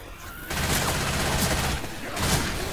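Rapid bursts of automatic gunfire from the Left 4 Dead 2 video game crackle close and loud, with a brief pause before the shooting resumes.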